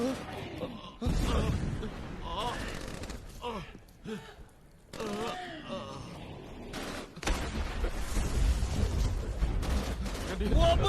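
Bursts of rifle and machine-gun fire crackle through a World War II battle scene on Iwo Jima in a 2006 war film. The rapid volleys come near and far, interleaved with shouted dialogue between men.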